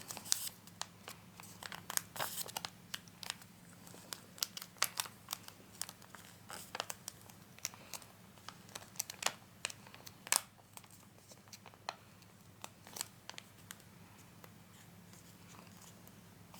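Paper is folded and creased by hand for sushi origami, with frequent sharp crinkles, crisp snaps and soft rustles coming in irregular bursts close by, quiet overall and without talk.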